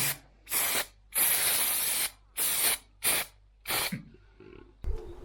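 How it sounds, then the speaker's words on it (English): Contact adhesive sprayed onto a caravan wheel arch cover panel in six bursts of varying length, close and loud, with short pauses between them and a faint clatter at the end. "Let's apply some contact adhesive to one side."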